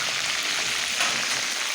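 Pieces of meat sizzle in a hot pan while being sautéed, a steady, close hiss and crackle of frying with no talking.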